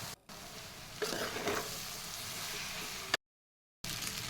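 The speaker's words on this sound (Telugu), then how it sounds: "ఇప్పుడు ఇందులో మ్యాగీ వేసుకొని మొత్తం కలిసేలా కలుపుకుందాం" Maggi noodles with egg and spinach being stirred in a pan, giving a steady soft sizzle with scraping from the spoon, broken by a brief silent gap near the end.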